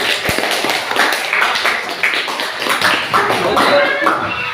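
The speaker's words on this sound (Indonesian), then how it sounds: "Oke, silakan tepuk tangan." A group of students at a physical education class claps together in a steady burst of sharp, close handclaps, with scattered voices in the background.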